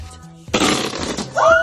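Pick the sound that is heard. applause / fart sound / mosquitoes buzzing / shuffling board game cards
fart sound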